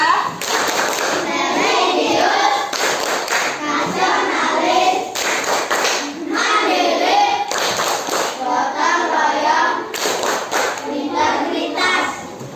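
Children chant together in rhythm while clapping in repeated bursts, loud and close, the pattern looping several times with brief pauses between phrases.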